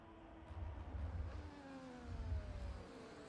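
F1 cars racing and overtaking in F1 24 at Mexico give a faint, distant engine whine that rises in pitch as one car passes another, over a low steady rumble.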